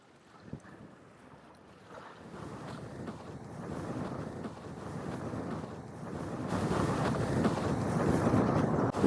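While windsurfing on open water, wind buffets the microphone and waves wash past, the roar building steadily louder over the whole stretch as a gust arrives.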